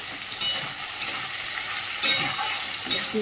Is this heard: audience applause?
no